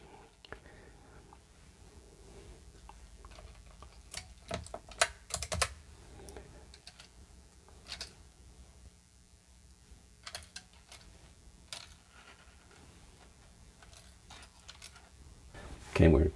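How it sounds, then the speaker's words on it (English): Keys are pressed back onto a Commodore 64 keyboard during repair, with scattered sharp plastic clicks and snaps amid long quiet stretches, close and moderately loud, a cluster of clicks near the end. "now we can start putting the keys in"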